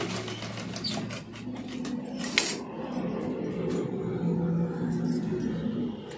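A sewing machine stitches the front and back of a blouse together, a quiet, continuous mechanical whirr with occasional light clinks and taps of handling nearby; no speech.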